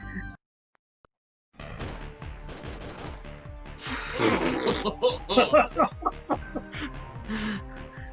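Gunfire from shooting an enemy in the Tomb Raider action-adventure DVD game, set in Parisian back streets: after a brief silence, bursts of sharp shots ring out over game effects and music.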